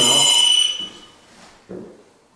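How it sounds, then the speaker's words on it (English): A K2 EMF meter sounds off with a loud, shrill electronic whine during a paranormal investigation in a haunted walking horse hotel. The whine lasts under a second and cuts out, followed by faint rustling and a brief low thump. "And the K2 went off."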